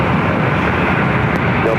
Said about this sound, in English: Iberia about to take off on the south side and 25 right